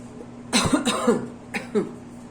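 A woman with a nagging cough coughs indoors at night, two pairs of short, harsh, close coughs separated by a brief quiet pause.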